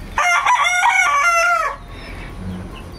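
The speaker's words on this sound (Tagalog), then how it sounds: "Yung mga manok na tandang ba?" A rooster crows once, a loud, close cock-a-doodle-doo lasting about a second and a half before fading to quiet farmyard background.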